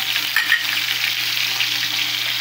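Bitter gourd (ampalaya) stuffed with ground meat and egg drops into a pan of hot oil, a broad steady sizzle and fry with a couple of brief low thumps near the start, no voices.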